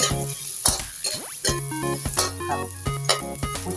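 Garlic frying in hot oil for a Thai stir-fry of long eggplant with soybean paste: a steady, close sizzle broken by repeated clinks and scrapes of a utensil against the pan.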